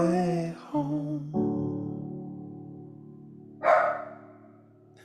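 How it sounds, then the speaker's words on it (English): A dog lets out a single bark, close and fairly loud, right after a sustained music note fades, followed by quiet. "I love how you arranged for your dog to come in with a bark just at the closing"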